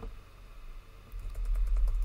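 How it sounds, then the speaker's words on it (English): Computer keyboard keys clicking in quick irregular taps during a Trombone Champ gaming session, faint at first and growing busier and slightly louder in the second half. "I'm gonna use my keyboard."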